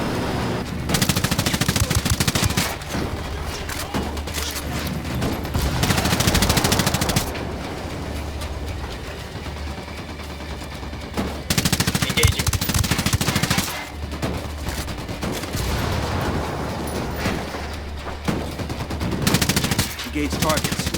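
Bursts of automatic rifle fire and single shots in Ghost Recon Wildlands come in loud clusters separated by brief quieter gaps, with voices speaking between volleys.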